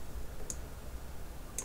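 Two sharp, quiet computer mouse clicks on an on-screen button while launching a Stable Diffusion launcher, spaced about a second apart over faint background hiss, with no speech.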